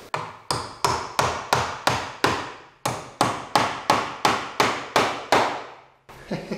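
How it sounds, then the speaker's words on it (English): A hammer strikes repeatedly in a steady rhythm, driving electrical boxes into place during a farmhouse renovation, about a dozen sharp, close blows with a short pause in the middle. "I'm going to go grab my hammer, and we'll put those in place."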